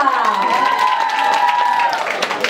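A crowd at the Miss Fashion Revolution beauty pageant in Pazardjik applauds and cheers loudly and steadily, with a sustained musical tone running beneath the dense clapping.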